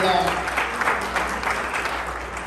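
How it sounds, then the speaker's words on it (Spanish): Congregation applause inside a church during a preacher's sermon, a continuous wash of clapping from many hands filling the room at even loudness throughout. "Démosle un aplauso más a nuestro Señor Cristo Jesús"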